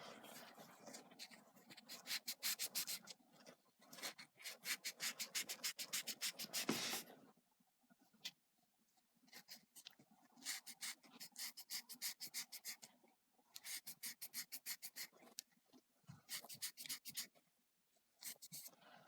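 Abrasive sanding on a one-way bearing surface, fast back-and-forth scratchy strokes in several bursts separated by short pauses, close and fairly quiet, with no talking.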